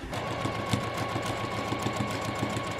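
A sewing machine stitches a quarter-inch seam along the edge of a vinyl zipper pouch, running continuously at a steady pace with a rhythmic mechanical chatter throughout.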